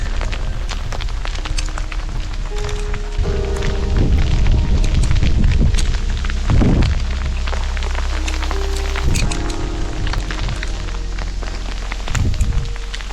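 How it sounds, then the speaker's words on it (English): Heavy hail pelting the ground during a mountain trail hike, a close, dense rattle of countless impacts with occasional louder thuds and rustles of movement nearby. "we just got hit with a huge hailstorm"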